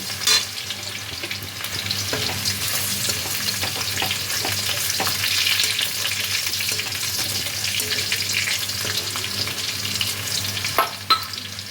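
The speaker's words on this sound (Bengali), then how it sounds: "রসুনগুলোকে তেলের মধ্যে নাড়িয়ে ভেজে নিতে হবে" Garlic fries in hot oil with a steady, close crackling sizzle and occasional scrapes of stirring, no voices.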